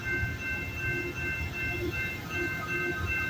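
A CPKC westbound freight train, led by a CN unit, passes at Campbellville, Ontario. It rumbles by at a distance with a low, continuous roar and a faint, steady high ringing tone over it.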